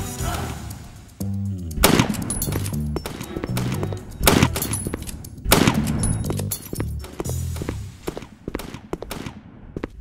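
Gunfire in the video game Time Shooter 2: loud repeated bursts and single shots in irregular clusters, close and dominant, with game sounds between volleys.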